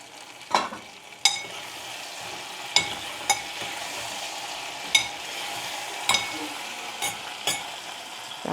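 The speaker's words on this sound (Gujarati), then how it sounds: "ચાલો તો આપણે સિંગને શેક કરી લઈએ અને આ સૂકેલા મરચાં" Peanuts and dried red chilies roast in a pan, a continuous dry sizzle with sharp clinks and scrapes from stirring spaced every second or so, close by with no talking.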